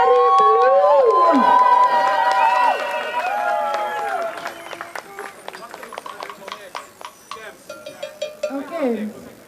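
Crowd at an outdoor jazz festival on a big church square claps and cheers for the band, a steady burst of applause that fades into scattered claps while someone speaks over the start.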